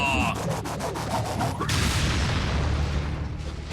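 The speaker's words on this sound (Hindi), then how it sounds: "तोप का गोला।" A loud, booming cartoon cannon blast from the Transformers: Robots in Disguise animated series erupts midway, followed by a rumbling crash and lingering noisy roar; sharp rhythmic pulses precede it.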